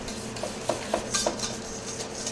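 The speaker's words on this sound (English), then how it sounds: "Just make sure you scrape around the bowl constantly" A spatula or spoon scrapes around a mixing bowl while batter is stirred for a pâte sucrée lemon tart, giving a few soft, irregular scraping knocks over low kitchen hum.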